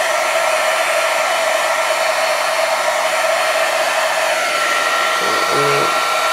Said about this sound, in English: to let my heat gun warm up a little bit first